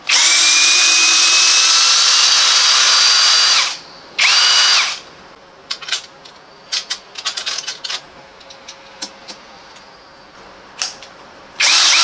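A Parkside Performance 20V cordless drill driver (PBSAP 20-Li A1) whirs loudly at high speed for several seconds, stops, spins up briefly again, then gives short bursts and clicks before a final run.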